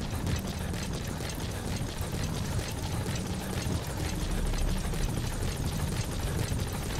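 The rotor and engine of a hovering helicopter in the video game Metal Gear Solid V: The Phantom Pain churn steadily and closely, a continuous thrumming wash with no voices.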